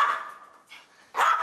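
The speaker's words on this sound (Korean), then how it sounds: "오늘따라 유독 짖어대는데요" A dog barks agitatedly at a visitor, two sharp, close barks opening and closing the brief moment, with a softer yip between them and no speech.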